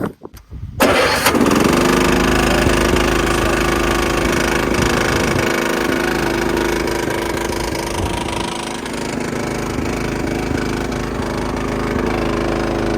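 A riding lawnmower engine is started warm without choke: a brief crank catches almost at once, then settles into a loud, steady, close idle with a buzzing drone that runs to the end.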